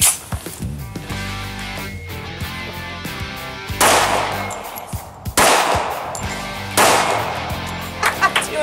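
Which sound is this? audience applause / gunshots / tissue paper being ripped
gunshots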